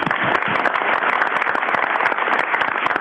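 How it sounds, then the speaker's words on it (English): A crowd applauds at a city council meeting, a steady, close and loud patter of many hands clapping for about three seconds with no talk over it. "Well, let's applaud."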